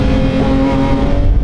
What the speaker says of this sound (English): You really get to hear that engine more, thanks to the fact they've removed all that sound deadening.